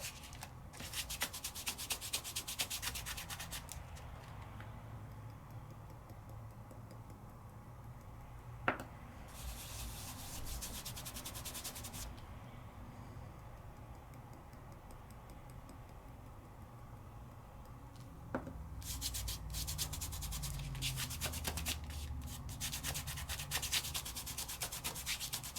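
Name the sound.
rubbing glitter onto sticky double-stick peel-off sticker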